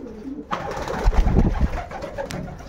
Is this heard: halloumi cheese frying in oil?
no